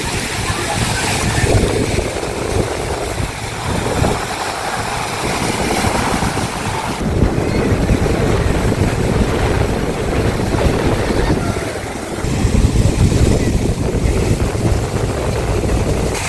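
Steady broadband roar of ocean surf and wind at Digha beach, continuous and loud throughout, with people talking faintly in the background.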